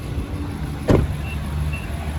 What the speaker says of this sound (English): step out while the engine's running.